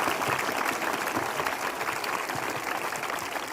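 Steady, dense applause from a church congregation at a Sunday evening prayer meeting, a continuous wash of clapping at even loudness for a few seconds with no voices over it.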